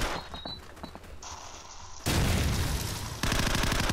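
Heavy, loud, sustained weapon fire in the Call of Duty 4 video game, with dense bursts after a brief lull and no talking.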